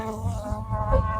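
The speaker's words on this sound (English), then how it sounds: "It sounds like a it sounds like high power lines in the rain." Steady electrical-sounding buzz likened to high power lines in the rain, heard during a fall beehive inspection with bees active, a continuous hum with faint fluctuating tones, moderately quiet.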